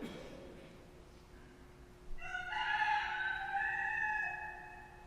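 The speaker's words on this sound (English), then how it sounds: "Right then, the rooster crowed." A rooster crows once, loud and clear, a long drawn-out call over quiet background noise after a brief soft sound.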